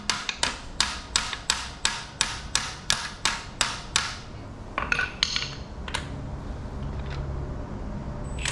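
A hammer taps metal in quick, evenly spaced sharp strikes, about a dozen in a row, while a 5.7-liter LS V8 is assembled for a 2006 Chevy Tahoe; after a pause, a few scattered lighter clinks and taps follow.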